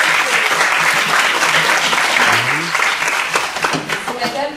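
Audience at a World Sickle Cell Day event applauding an elected official, a dense, loud, sustained clapping that tapers slightly toward the end, with voices talking underneath.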